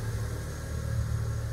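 A Fiat 500's engine hums steadily at low speed as the small car is driven outside, a short and fairly quiet stretch of even engine drone.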